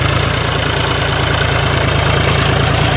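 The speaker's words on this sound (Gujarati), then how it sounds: "પછી જો આ કોરાનગર હારી આ 44 ટ્રેક્ટર છે" A John Deere 44 tractor engine idles steadily on a farm, a low, even throb with a regular pulse that runs unbroken for about three seconds, loud and close, with no voices over it.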